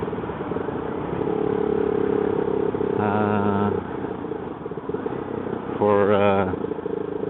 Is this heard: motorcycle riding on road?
yes